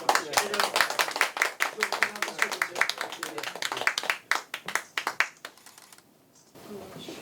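An audience at an anti-corruption award ceremony breaks into dense, lively applause that holds strong for several seconds, then thins out and fades to a few scattered claps near the end.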